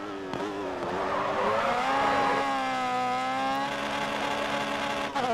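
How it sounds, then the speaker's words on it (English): A race car engine in Grid Autosport screams at high, steady revs against the rev limiter, with tire squeal mixed in, loud and continuous, rising briefly before holding a flat, strained pitch. "Hitting the rev limiter like a boss"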